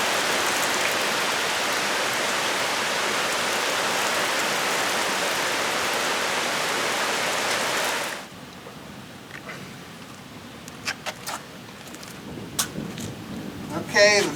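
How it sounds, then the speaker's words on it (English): Heavy rain pours steadily and loudly for about eight seconds, then cuts out, leaving quieter dripping and scattered taps. "A little rain intermission."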